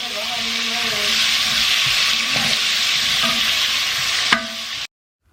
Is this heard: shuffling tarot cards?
no